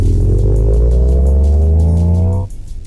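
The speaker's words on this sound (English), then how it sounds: "there are two noise induction sounds that's coming from the speakers" Synthetic engine sound from the speakers of an MG Cyberster electric roadster, loud and close, rising in pitch like a revving motor, then cutting off abruptly near the end.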